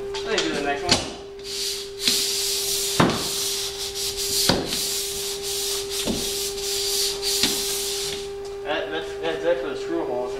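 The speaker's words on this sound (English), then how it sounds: "you only have to go over like once or twice" Sandpaper rubs over dried drywall compound covering screw holes on sheetrock, a soft steady scratching broken by several sharp taps, with a faint hum underneath.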